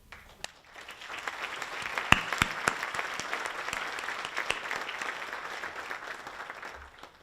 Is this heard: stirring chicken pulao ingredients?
no